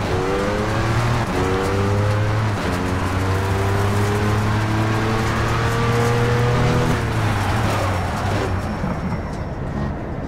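Race car engine in the video game Project CARS, revving hard through repeated upshifts with rising and falling pitch, loud and continuous with brief tire noise, no talk over it.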